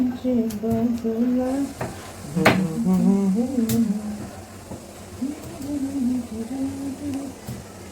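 Mustard seeds and asafoetida crackle and sizzle in hot oil for a tadka, a steady frying hiss with sharp pops and a few utensil clinks, while someone talks over it.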